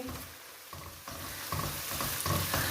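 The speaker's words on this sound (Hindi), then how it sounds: "इसको भी हल्का सा फ्राई करेंगे, क्योंकि लहसुन अदरक का भी कच्चापन दूर हो जाए" Steady sizzling of garlic and ginger frying in a pan, with soft scraping and stirring sounds building slightly louder over a few seconds; no voices.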